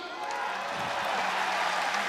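Crowd applause at a PRIDE 34 mixed martial arts event for a lightweight fighter, a broad steady wash of clapping that holds at an even level for about two seconds with a faint voice underneath.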